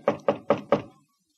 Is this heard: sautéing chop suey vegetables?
no